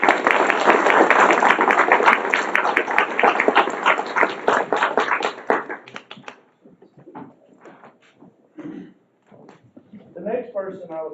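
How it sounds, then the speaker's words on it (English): A school audience applauds, a dense burst of clapping for about five seconds that breaks off and fades into scattered claps and quiet murmuring voices. "please give Mr. Paul a big round of applause"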